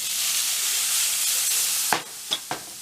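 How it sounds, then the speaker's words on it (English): Chopped onion frying in a pan, a steady close sizzle and hiss that ends in a few sharp clatters of stirring or utensil knocks, with no talking. "I'm just going to put the onion into the pan, cook that until it's caramelized for about 5 minutes"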